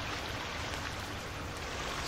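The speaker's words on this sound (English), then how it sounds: "I can hear water." A steady, soft rush of flowing water, continuous and even, fairly quiet with no voices.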